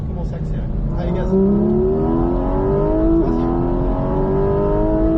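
Porsche GT4 RS accelerating on the Mettet race circuit, heard from inside: a loud, rising engine note climbs steadily through a gear with a brief shift, while a voice speaks over it.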